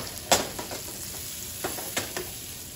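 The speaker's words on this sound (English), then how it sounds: "You just sauteing them, getting them cooked so they can go in this scrumptious macaroni and cheese." Tiger shrimp sautéing in a pan for macaroni and cheese give a soft, steady sizzle with a few sharp stirring clinks and scrapes from a utensil at irregular moments, close and fairly quiet, with no one speaking.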